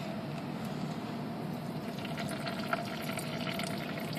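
Engine oil draining from the drain plug of a 5.0 V8 into a long pan, a steady, continuous liquid pour and splatter heard close up at an even level throughout, with no talking.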